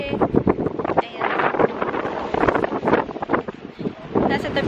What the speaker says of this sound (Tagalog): Nasa tabi tayo ng dagat. Kaya sobrang hangin.